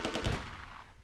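Rapid gunfire from the Close Combat II World War II strategy game, a loud, dense burst of automatic fire with a heavy thump that trails off into fading echoes, heard alone.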